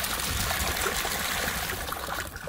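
Water running steadily into a container during a refill at a garden plot in Japan, a close, continuous splashing trickle that fades slightly at the end, with no talk.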